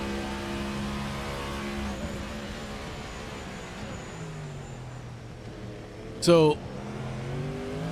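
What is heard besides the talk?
race cars driving on track, Bahrain race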